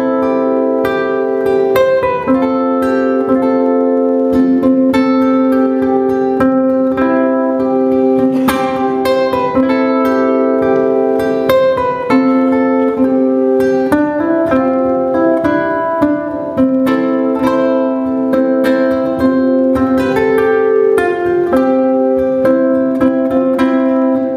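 Ukulele played hard and aggressively at a workshop, with bright plucked and strummed notes in a steady, loud, continuous phrase with sharp attacks, close up and alone without any talk.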